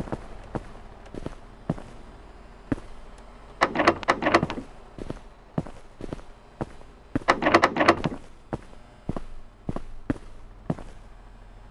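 In a Shrek-themed night-survival video game, a door opens amid a steady run of dull footstep-like thumps, with two longer rattling, creaking bursts standing out clearly and no voices.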